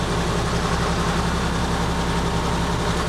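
An excavator's diesel engine runs at a steady low idle, a continuous rumbling drone with a regular low throb, heard close and alone without any talking.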